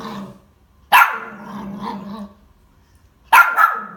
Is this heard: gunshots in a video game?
no